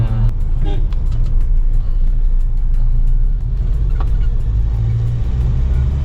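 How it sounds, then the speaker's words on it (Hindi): Cabin rumble of a Mahindra Scorpio on 20-inch alloy wheels cruising in fourth gear, a loud steady low drone with tire and road roar and a few faint clicks above it. "अपना अभी हम गाड़ी चला रहे हैं चौथे गियर पे"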